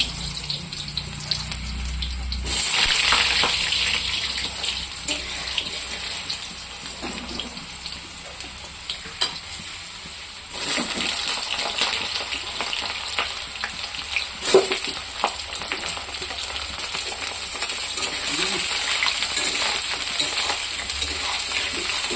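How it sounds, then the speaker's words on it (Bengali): Cut potatoes dropped into hot oil for a chicken gravy, the frying hiss surging up loudly at the start and again later, with stirring scrapes and bubbling crackle continuing up close. "তেলটা গরম হয়ে গেছে। এখানে আমি কেটে রেখেছি এখানে আলু, আর ওই দেখুন পেঁয়াজ। আলুটা আমি প্রথমে ভাজা করে নেব।"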